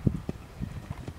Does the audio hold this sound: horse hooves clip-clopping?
yes